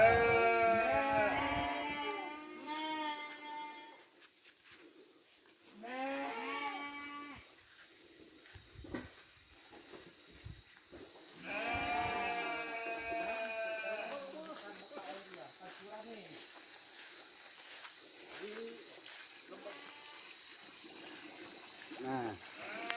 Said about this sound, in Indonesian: Yel dari domba ya dan sapi mengatakan bahwa kita diterima di perkampungan ini.